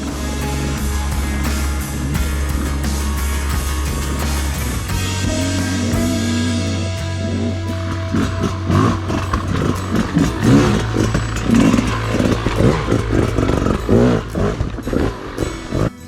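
A Rieju motorcycle engine idles with a steady low drone, then the throttle is blipped open into a run of sharp, loud revs with clattering mechanical noise, close to the microphone and with no talking.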